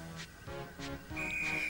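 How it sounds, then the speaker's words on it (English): A railway guard sounds a whistle beside a cattle train in a model train story, a short, shrill, steady tone near the end that follows brief speech-like sounds. "the guard blew his whistle, and he was ready to go."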